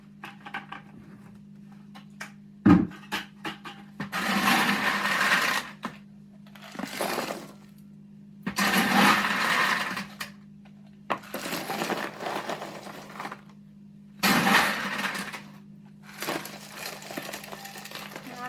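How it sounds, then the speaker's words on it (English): Ice is piled onto tightly packed, folded fabric in a container for ice dyeing: repeated rattling, crunching bursts of a few seconds each, separated by short pauses over a faint steady hum, with a sharp clack early on. "So then I will put the ice on."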